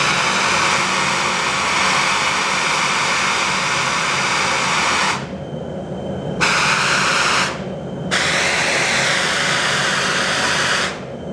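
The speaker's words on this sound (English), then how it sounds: "Final adjustment must be done with the oxygen jet going." Oxy-fuel cutting torch with its oxygen jet running, cutting quarter-inch steel plate: a loud, steady roaring hiss that cuts out briefly twice as the jet is shut off and restarted, with no talk.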